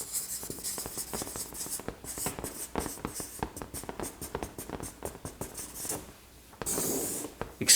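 Handwriting on a market chart during a trading explanation: a busy run of scratchy strokes and light taps, irregular and close, with a brief louder rustle near the end.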